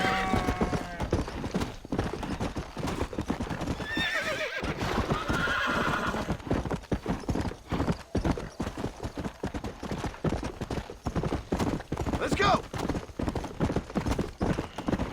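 Horse hooves clip-clopping steadily in Red Dead Redemption on Xbox One, dense rhythmic hoofbeats with a whinny partway through, over game ambience, no talk.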